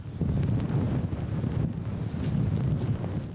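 Strong, steady wind roars and buffets the microphone outdoors, a continuous low rumble filling the whole stretch with no voices, just before a small homemade model plane is launched.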